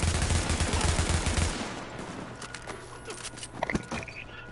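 Rapid gunfire in The Division's dark zone, a fast dense rattle at first that fades into distant scattered shots and clatter.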